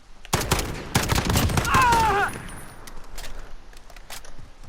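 Rapid bursts of gunfire from a shooter video game rattle in quick succession, loud and close, with a brief metallic ring, then the shots thin out to scattered quieter pops.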